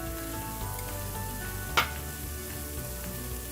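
Ginger garlic paste with Kashmiri chili powder, cumin, coriander and turmeric fries in a pan for a beef masala, giving a steady close sizzle with one sharp clink of a stir partway through.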